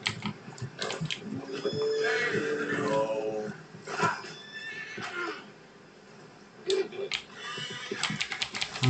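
Horse neighing in a video game, several loud whinnies and snorts close up, broken by short pauses and faint clicks, with some background game noise.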